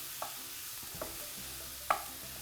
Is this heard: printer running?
no